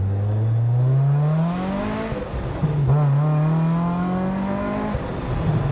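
A Mazda Miata engine with a Rotrex supercharger, about 260 wheel horsepower, revs up loudly in neutral, climbing in pitch toward 5,000 rpm, dropping back, then revving hard again, close and raw.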